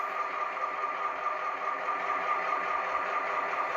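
Two HO scale GP38-2 model diesel locomotives run together, giving off a faint continuous motor hum with a light steady buzz and no talking.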